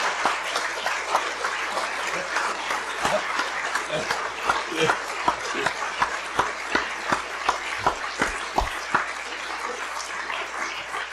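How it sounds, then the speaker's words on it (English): A lecture audience applauds Professor Ronald Dworkin at a 1988 talk: a steady, dense crackle of many hands clapping fills the hall for about eleven seconds, with a few sharper individual claps standing out near the end. "I suggest we applaud him again."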